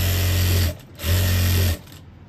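A sewing machine stitches along the edge of a shirt collar, two close, loud bursts of rapid mechanical stitching separated by a brief pause, with no talking.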